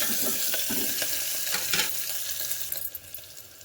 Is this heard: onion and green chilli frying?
yes